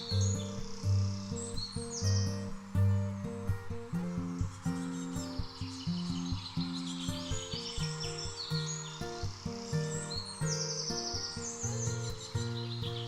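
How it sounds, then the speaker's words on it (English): Coal tits and great tits chitter at forest feeders, with rapid high chirps and twittering scattered throughout over a steady low tonal drone. "The main bird species that visit these feeders are coal tits and great tits."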